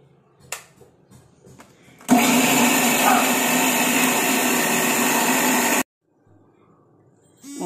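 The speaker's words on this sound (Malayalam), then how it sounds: "തേങ്ങയും കാന്താരി മുളകും ജീരകം ഇട്ടു, തൈരും കൂടെ ഒഴിച്ച് നമുക്ക് അരച്ച്" A mixer grinder grinds coconut, bird's eye chili, cumin and curd, starting abruptly with a loud, steady whirring roar for several seconds before cutting off, preceded by faint voices and a few clicks.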